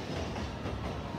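Shinkansen bullet train pulling away at Tokyo Station, a brief, fairly faint rushing rumble with rail clatter heard from the platform, no voices.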